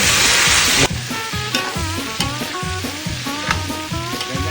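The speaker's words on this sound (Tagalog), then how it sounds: "Pinipirito muna, bossing, yung talong." Eggplant fries in a pan: a bright hiss opens, then gives way to rhythmic scraping and clattering of stirring over a steady sizzle, close and fairly loud.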